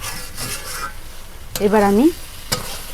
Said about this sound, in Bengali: কষিয়ে নিচ্ছি, তাতে মাংসটা কষানো ভালো হয়।